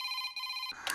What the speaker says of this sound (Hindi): दरअसल फोन भी अभी बजना था क्या?